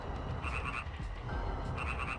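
Frog croaking in Grandia HD Remaster, repeated throaty croaks in two clustered bursts over a soft steady ambient bed, no talk.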